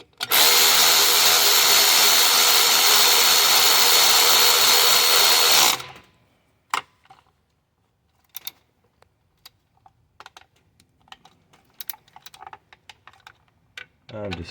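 A power tool snugs down bolts during a turbo install on a 2012 Ford F450 with a 6.7-liter Powerstroke, running loud and steady for about six seconds, then stopping, followed by scattered small clicks and taps of handling parts.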